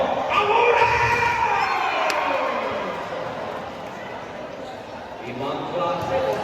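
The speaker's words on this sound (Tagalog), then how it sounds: "Heto naman, nagpagulo na ang crowd dito." Rowdy crowd noise fills a gym during an outdoor-league basketball game, a steady broad roar of many voices that swells at the start and again near the end, with a commentator talking over it.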